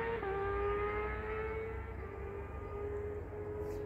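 Motor racing circuit engines roar in the distance across quiet wilderness in Finnish Lapland, a faint steady drone with sustained tonal whine and a slight pitch shift, no voices present.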